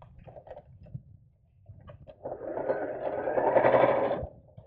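Soft handling taps give way to a short burst of a sewing machine stitching a purse organiser craft bag, rising for about two seconds, then stopping.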